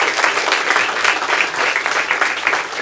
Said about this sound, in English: one great round of applause